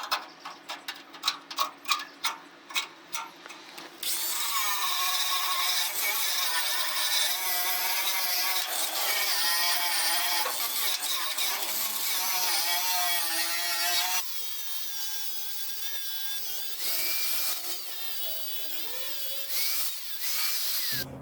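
Stitch welding along the edge of a steel dump trailer during a repair, a few short ticking tack bursts giving way to a steady, loud sizzling arc that runs unbroken for about ten seconds, then continues slightly softer.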